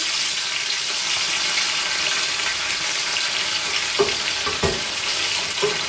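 Thin-skinned tomatoes hit a hot frying pan for a Sicilian pasta sauce, giving a loud, steady hiss and sizzle throughout, with a few light clinks near the end.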